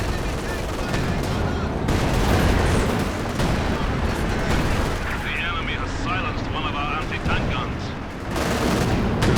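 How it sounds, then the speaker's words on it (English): 152mm artillery fire in the video game Company of Heroes 2 sounds as heavy, booming blasts and rumbling explosions amid dense gunfire, loud and continuous throughout, with a commentator's voice talking over the battle. "152mm artillery coming through now."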